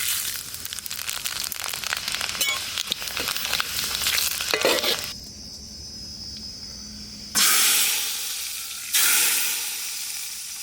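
Dry red chillies and panch phoron hit hot mustard oil with a loud, crackling sizzle that fades after several seconds to a quieter hiss, then two sharp bursts of renewed frying; no speech.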